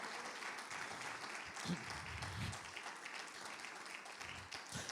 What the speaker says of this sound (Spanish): Otra vez un aplauso al Señor de gratitud